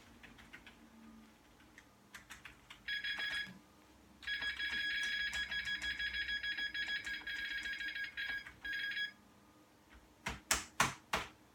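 An old Dell PC restarts: keyboard typing patters quietly as F2 is pressed, broken by short electronic boot beeps, with a few sharp clicks at the end.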